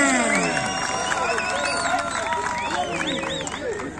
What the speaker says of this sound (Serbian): Može li malo aplauza